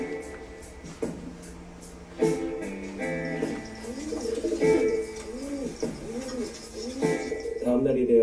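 A pigeon coos close by in repeated throaty, rising-and-falling phrases, with soft shuffling sounds underneath.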